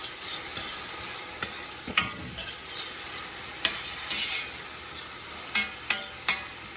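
Chopped garlic and onions fry in a hot pan as a steady, close sizzle, broken by sharp spoon clicks and scrapes against the pan every second or so.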